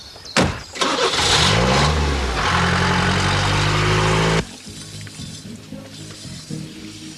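A car starts and then accelerates hard as it pulls away, its mid-pitched engine rising in a loud rev that holds for a few seconds. The engine cuts off sharply and a quieter background remains.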